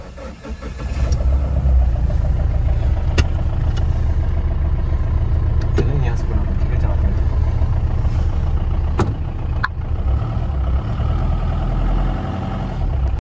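A Mahindra Bolero SUV's engine drones loudly and steadily from inside the cabin while driving, with a constant low rumble and a few sharp clicks and knocks over the run.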